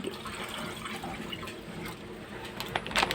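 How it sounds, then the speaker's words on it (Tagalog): Water pours steadily into a pot of chicken broth, splashing and gurgling continuously up close, with a few sharper splashes toward the end. "Dagdagan ng tubig."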